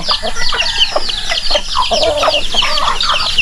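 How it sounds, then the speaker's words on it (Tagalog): A flock of free-range chickens clucks and squawks loudly and continuously on a farm, close by, with overlapping calls and a crow mixed in. "Halo-halo itong mga manok natin dito."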